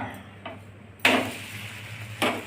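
A dosa flipped over on a hot pan at home, giving a couple of brief scraping clatters of spatula on metal over a low steady background, with no talk.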